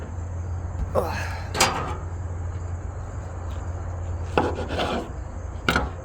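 A knife cuts through a small juicy tomato with a few crisp, close slicing strokes, in two brief clusters over a steady background hum.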